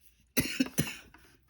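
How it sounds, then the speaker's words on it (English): A person coughs three times in quick succession, close and sharp, followed by a faint breathy trailing sound in a quiet indoor room. "I'm going to start coughing and not be able to stop."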